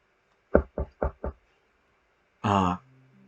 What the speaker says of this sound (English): We hear knocking again.